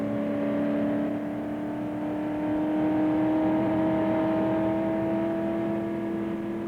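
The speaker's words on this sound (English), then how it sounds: "Accelerating, and now we're on the third fastest part of the circuit" Engine of a race car at the 1968 Le Mans circuit, holding a steady, loud droning tone as it accelerates down a fast stretch, with a slow gradual rise in pitch.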